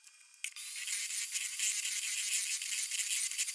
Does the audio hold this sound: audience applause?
no